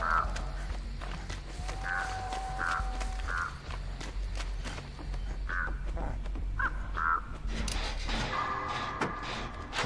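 Crows caw repeatedly in the survival horror game Dead by Daylight, several separate harsh calls spread across the stretch against a low rumbling ambient backdrop with faint footsteps.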